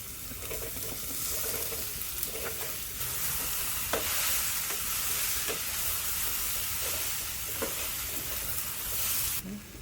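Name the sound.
frying and stirring soya chunks (meal maker) with turmeric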